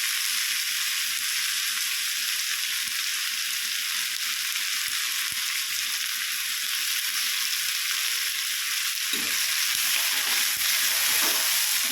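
Curry leaves crackle and sizzle in hot oil in a pan for a drumstick and egg thoran, a loud, constant close-up frying hiss with rapid popping that carries on alone throughout and shifts slightly toward the end.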